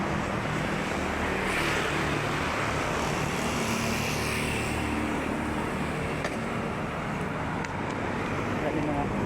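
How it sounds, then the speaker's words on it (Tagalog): Dense, steady roar of many cars streaming past on a highway, continuous and loud with no break, heard from the roadside while walking. "Marami mga kotse, dumadaan."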